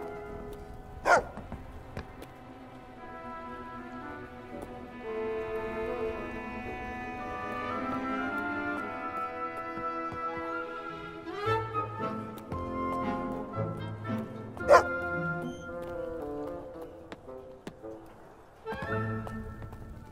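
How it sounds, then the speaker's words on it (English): A dog in the video game Fable II barks several times amid a melodic game score, sharp yips standing out at moments over the steady music. "is that dog again?"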